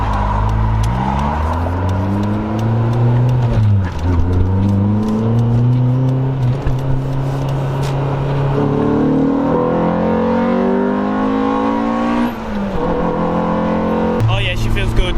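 A Honda Civic engine idles and revs steadily close by, its pitch climbing and dropping through several rises, loud and continuous throughout.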